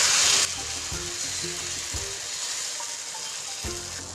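Batter for sweet Gujarati pudla cooks on a hot tava, spread by hand, producing a bright hiss that starts loud and eases into a steady sizzle with faint clicks and scrapes throughout.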